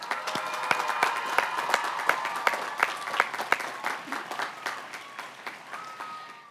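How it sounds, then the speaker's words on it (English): Steady applause at a college of agriculture commencement ceremony, a crowd clapping continuously with a few sharp, close hand claps standing out above the spread-out mass of sound. "Let's offer them a round of applause."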